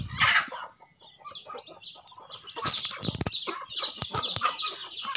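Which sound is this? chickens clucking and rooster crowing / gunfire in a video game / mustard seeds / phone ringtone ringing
chickens clucking and rooster crowing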